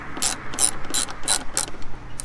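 A ratchet turning a T20 Torx bit backs out the MAF sensor bolts on a 2006 Mustang GT during a cold air intake install: about six quick, close bursts of sharp clicking separated by short pauses.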